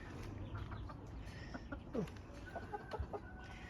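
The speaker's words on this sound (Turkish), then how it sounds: "Şurada da yumurta tavukları var." Laying hens cluck intermittently in short, scattered calls over a busy outdoor background, moderately distant and fairly quiet.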